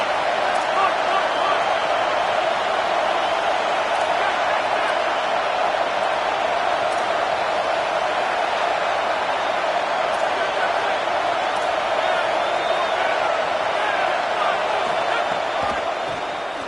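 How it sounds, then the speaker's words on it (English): A stadium crowd roars steadily behind the defense on third down at an American football game, a dense, sustained wall of noise with a commentator talking over it. "Decibels rising as the crowd gets behind this defense on third down"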